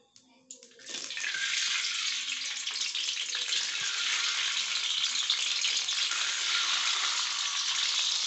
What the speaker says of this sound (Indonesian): separuh kita goreng.